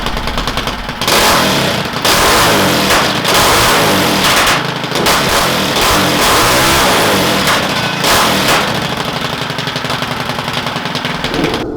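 A free go-kart fitted with a built-up 30 horsepower 440cc engine with a billet rod, billet flywheel and electric start revs loudly and continuously, the engine note rising and falling through repeated throttle blips for the whole stretch, with no talk.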